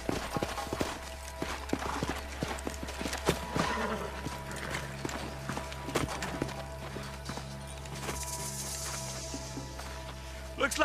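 Hooves clip-clop in a steady trotting rhythm over a low hum, with scattered clanks and voices speaking in the background, from the video game Red Dead Redemption.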